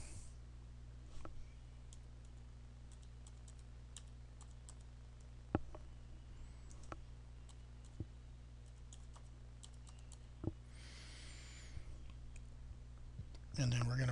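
Typing on a computer keyboard, scattered faint key clicks and taps over a quiet room hum, with a brief louder rustle near the end and no talk.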